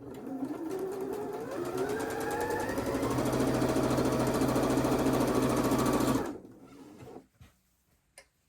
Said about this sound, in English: Now I'm gonna sew the center seam.